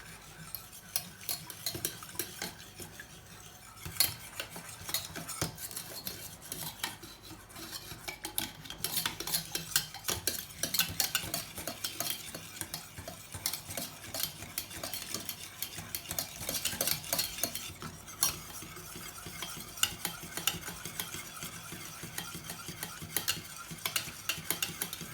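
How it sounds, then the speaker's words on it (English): A thickening bread flour mixture stirred steadily in a pot for a Hokkaido milk loaf, with a continuous soft scraping and rubbing of the utensil against the pot, quiet and close, and no voices. "We have to keep stirring to avoid lumps."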